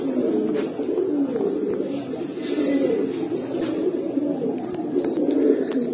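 Pigeons of Pankhi, Grizzle and Baghdadi Homa breeds coo steadily and close by, a continuous layered murmur of many birds with no talk over it.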